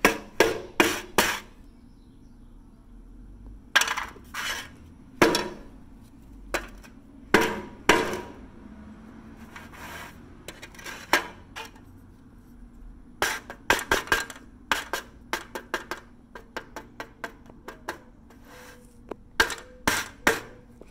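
A hammer smashes a gold object, sharp metallic strikes in irregular bursts, some rapid clusters and some isolated blows, close and loud over faint background rumble.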